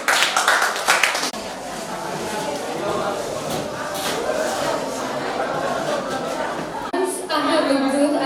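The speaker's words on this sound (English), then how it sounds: "Give a round of applause for them." An audience at a junior high school literary reading claps for students, a loud burst of clapping up front that thins into scattered claps under chatter and talk, with another brief swell near the end.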